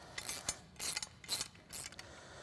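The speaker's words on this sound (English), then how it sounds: "So we're just using a 15 millimeter 3/8 drive socket." A 3/8-drive socket ratchet tightens a 15 mm nut during a winch install on a Polaris RZR XP 1000, giving four quick bursts of close, crisp ratcheting clicks separated by short pauses.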